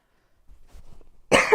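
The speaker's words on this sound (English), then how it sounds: "Still coughing a little bit from being sick." A person recovering from illness gives a single loud, close cough after a moment of soft rustling, sharp and brief at the end of an otherwise quiet stretch.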